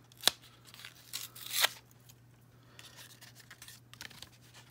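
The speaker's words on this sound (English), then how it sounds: "either open very carefully or cut with scissors" Scissors snip open the plastic packaging bag of a miniature appliance toy in a few sharp, close cuts, each with a crinkle of plastic, followed by quieter rustling.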